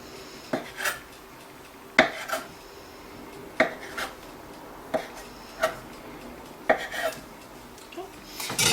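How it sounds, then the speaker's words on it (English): Knife chopping through floured pelmeni dumpling dough on a board, a series of sharp close knocks at an uneven, unhurried pace, roughly a dozen cuts with no talking. "Take a knife and just cut."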